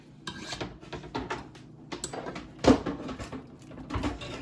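Spoon scraping and stirring through leftover Velveeta cheese in turkey pot-pie filling inside a pot, soft repeated rubbing strokes with a sharper knock of the utensil against the pot partway through.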